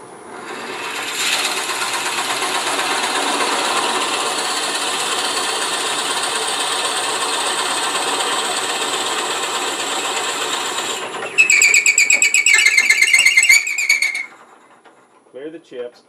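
A drill bit bores into wood turning slowly on a wood lathe, giving a long steady grinding whir, then a brief harsher chattering burst before it stops and a few faint knocks follow.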